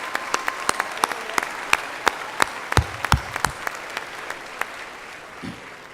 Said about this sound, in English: And a round of applause for these new alumni members.